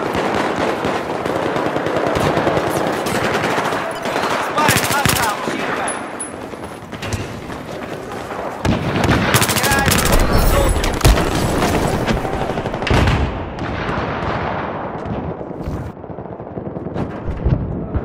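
Automatic and single gunfire from a Battlefield 4 firefight on the Pearl Market map, with dense, loud bursts rattling almost continuously over about eighteen seconds, some heavier booms mixed in, and brief radio-style callouts now and then.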